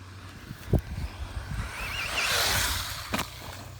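A cheap Traxxas Slash RC car runs on an ATV track, its electric motor whining up under throttle with a rising, sustained buzz that swells mid-clip over outdoor background noise and a couple of sharp knocks.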